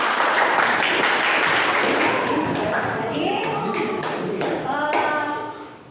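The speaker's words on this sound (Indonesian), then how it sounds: "Tepuk tangan buat kelompok." Schoolchildren in a classroom clap for a group of classmates who have just presented their work, a dense, steady patter of many hands that fades toward the end, with voices mixed in.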